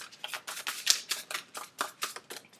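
Tarot cards being shuffled by hand, a quiet run of quick, papery riffles and flutters in a fairly even rhythm, close up and alone.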